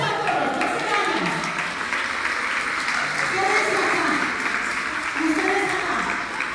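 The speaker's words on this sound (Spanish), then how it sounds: "un aplauso a todos" A group claps together at a community gathering on conflict resolution. The applause is a steady wash that runs throughout, mixed with voices talking over it.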